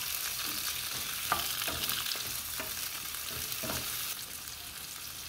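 Tomatoes and onions fry in a pan with a continuous sizzle, broken by several sharp scrapes and taps of a utensil stirring; no voices.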